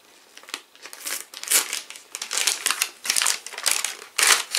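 Paper packaging of an advent calendar being opened, with repeated loud crinkling and tearing bursts in an uneven rhythm, close by.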